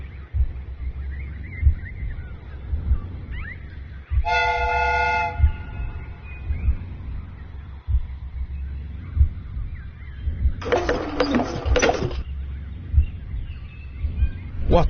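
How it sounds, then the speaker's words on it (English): Steam whistle on a replica train inside a video game, two shrill blasts a few seconds apart over a low rumbling background, with the first blast tonal and steady and the second more broken. "The steam whistle is ready to be used."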